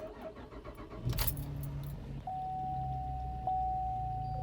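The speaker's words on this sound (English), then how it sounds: "I'm also going to start the car" Keys jingle briefly, then a car engine cranks and catches, settling into a steady idle hum with a faint whine.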